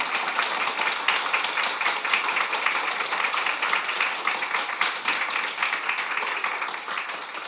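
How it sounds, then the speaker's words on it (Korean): A church congregation applauds during a Sunday worship service, dense sustained clapping from many hands filling the room, steady and loud across the whole stretch with no pause. "하나님께 영광의 박수 드리겠습니다."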